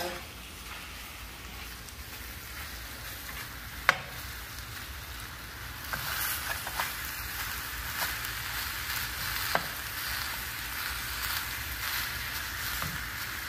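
Apples frying in a skillet for Southern-style fried apple pies give off a steady, quiet sizzle with a few soft clicks of utensils, heard alone without talk.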